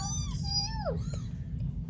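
A single high, drawn-out kitten meow that bends downward at the end, heard over a steady low background hum.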